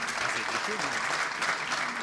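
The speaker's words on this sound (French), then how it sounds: "Merci pour vos applaudissements." An audience at an AI racing event applauds in a steady, dense patter of clapping that runs through the whole short stretch, with a faint voice underneath.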